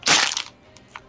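Voice imitating a neck cracking, a sharp crunchy burst at the start that fades quickly, followed by a few faint clicks, close and fairly quiet.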